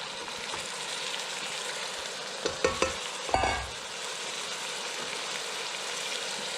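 Tomato sauce for lasagna being stirred in a pan, a steady sizzling hiss throughout with a few brief clanks of the utensil against the pan near the middle, close by with no talking.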